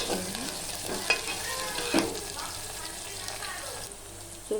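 Onions frying in a pan until brown for a chicken curry give off a steady, close sizzle, with a few sharp clinks and scrapes of a stirring utensil.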